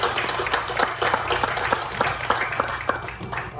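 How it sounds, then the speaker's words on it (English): Round of applause from attendees at a Florida county board meeting, steady scattered clapping filling the room at moderate level throughout, with no talking over it. "And let's give them a round of applause."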